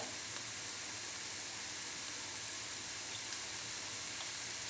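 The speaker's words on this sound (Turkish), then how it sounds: "Şimdi altını biraz açacağım. Hafiften hem kavrulsun hem de baharatlarını ekleyeceğim." Chopped leeks sautéing in a pan, giving off a steady, even sizzle that fills the background without a break, with no talking over it.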